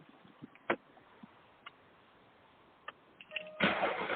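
A car engine cranks and catches near the end, rising into a loud, steady running rumble after a few scattered clicks and thumps in an otherwise quiet interior.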